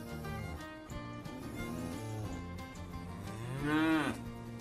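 Cows moo in a steady, low bellow that ends in a louder rising call near the end, close and clear with no talking.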